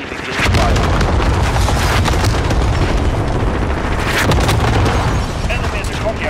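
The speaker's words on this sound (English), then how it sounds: "Allied cluster strike inbound" Heavy rumbling cluster-strike explosions in Call of Duty: Modern Warfare multiplayer, a loud, sustained barrage of booms and blasts rolling together with gunfire, while radio-style voices speak over it.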